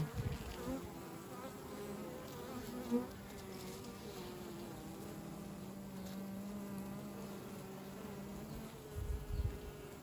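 A steady buzzing drone of many bees inside a hive, with a thin, wavering tone of a queen bee piping running through it; faint and continuous.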